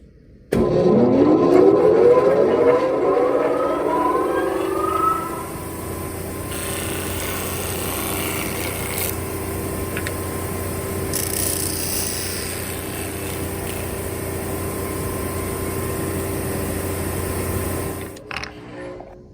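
A power sander whirs up loudly and runs steadily, its motor droning with scraping grit as it rounds over wooden edges, then shuts off near the end.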